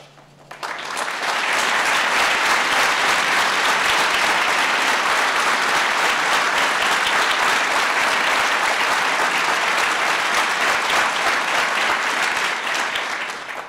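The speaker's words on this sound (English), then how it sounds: "Let's give one last big round of applause to the recipients of the Medal of Valor" Sustained, loud applause from an audience honoring Florida police officers receiving the Medal of Valor, rising quickly after a brief quiet start into a dense, even wash of clapping that holds steady for over ten seconds.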